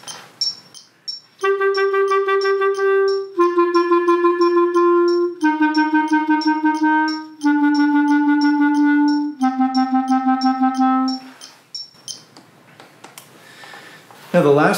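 A woodwind plays a burst tonguing exercise: rapid bursts of tongued notes, several quick repeated articulations grouped into phrases on different pitches, with brief pauses between groups.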